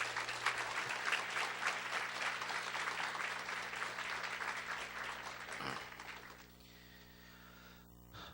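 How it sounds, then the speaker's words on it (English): An audience at a teacher of the year ceremony gives a sustained round of applause that fades out after about six seconds, leaving a low electrical hum. "give all of our teachers of the year a round of applause"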